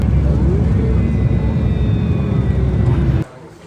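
An airplane at an airport gives off a steady, loud engine roar with a thin high whine running through it. The sound holds for about three seconds and then drops away abruptly.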